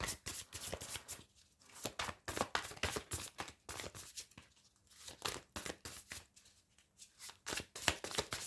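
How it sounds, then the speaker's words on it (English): Tarot cards being shuffled by hand, rapid riffling and slapping in repeated bursts with short pauses between, close and fairly quiet. "let me just shuffle your cards"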